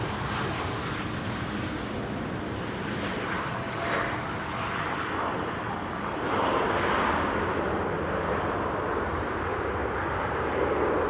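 An Airbus A220 (Bombardier C-Series 100) airliner at Amsterdam Schiphol gives a steady, broad jet roar that holds loud throughout and swells slightly in the second half, with no voices over it.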